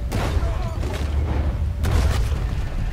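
Cannon fire in the video game Red Dead Redemption 2, heavy booms and low rumbling bursts mixed with game ambience and a couple of sharper reports, fairly loud.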